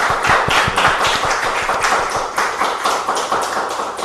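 Audience applause thanking an author at the close of a restorative justice academy talk, a dense steady clapping from many hands lasting throughout, loud and close with no voices.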